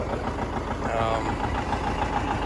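A 1957 John Deere 720 diesel tractor engine idles with a steady, loud low rumble and rhythmic knocking pulse, heard close and continuous throughout.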